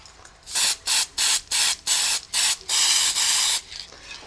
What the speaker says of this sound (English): I'll just give that a quick spray.